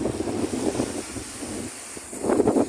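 Wind buffets the microphone in steady gusts while waves wash and churn nearby, swelling louder toward the end.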